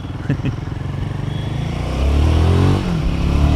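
Royal Enfield Himalayan 450 single-cylinder engine thrumming steadily while riding through city traffic, a low continuous drone that swells as the throttle opens midway, then settles, close and loud with no talk.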